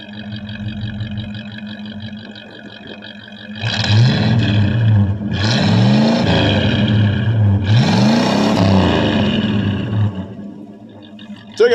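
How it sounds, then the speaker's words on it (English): A 1984 Chevrolet Suburban, cold-started after three years sitting with a mouse nest in the exhaust, idles roughly and then gets three strong, sustained revs that rise and fall loudly up close. "Let's give them the last exhaust rev."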